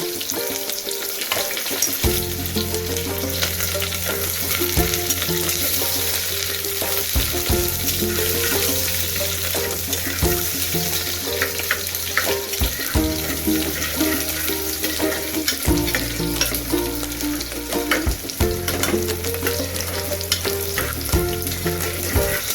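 Sliced onion frying in about two spoons of hot oil toward golden brown for a veggie breakfast, a loud continuous sizzle with repeated stirring scrapes and a low pan hum close by.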